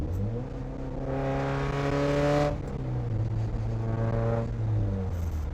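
A 1990 Mazda NA Miata race car engine revs up and down as it is driven hard on twisty roads, pitch rising steadily, dropping, then climbing again, loud and close with no talk.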